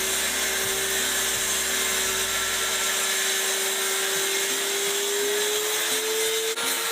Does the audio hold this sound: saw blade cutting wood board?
yes